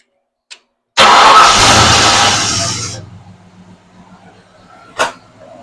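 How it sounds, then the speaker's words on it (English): A car engine, checked for a fan vibration, cranks and catches loudly after a small click, roars for about two seconds, then settles into a low steady idle, with a brief knock near the end. "I'm going to start up, let it idle, and see if the fan is shaking around or not."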